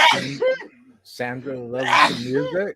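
A single sneeze bursts out between stretches of close conversational talk on a live stream, brief and sharp amid the chatter.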